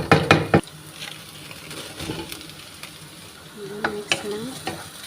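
Fried potatoes and carrots are stirred in a pan with onions, a short burst of scraping clatter at the start followed by a soft ongoing sizzle with occasional light stirring scrapes, close and fairly quiet.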